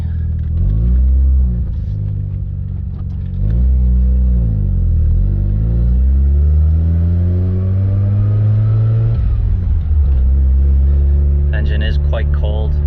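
A 1989 Mazda RX7 Turbo II idles with a steady low rumble after a cold start, its pitch rising and falling as it is revved a couple of times, with a brief higher clatter near the end.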